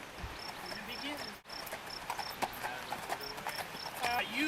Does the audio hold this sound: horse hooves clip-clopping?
yes